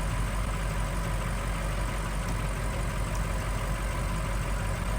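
A car engine, started after sitting for years, idles steadily with a low, even rumble and faint knocking, continuous and close, with no talking.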